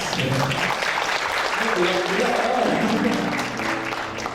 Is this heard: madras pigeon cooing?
no